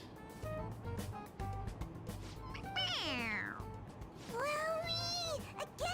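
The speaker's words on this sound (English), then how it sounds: "It meows when you press on its head." A stuffed toy cat gives electronic meows when its head is pressed, two drawn-out, fairly loud mews with a faint background murmur.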